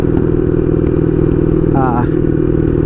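A Honda Magna 750 motorcycle with straight pipes runs with a loud, steady, throbbing engine note. It stays constant throughout, with brief faint voice-like sounds over it.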